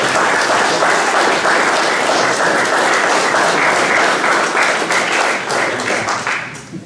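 Warm, steady applause from the audience at an art exhibition opening evening, many hands clapping together at close range for about seven seconds before thinning out at the end.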